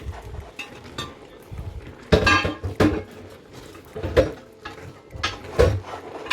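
Thick, irregular scraping and clunking of a utensil working through heavy plantain fufu made from plantain flour and water in a pot, with uneven pauses between strokes.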